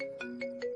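A phone's ringtone plays for an unanswered call, a soft tonal melody with three quick repeating pulses, fairly quiet and heard alone.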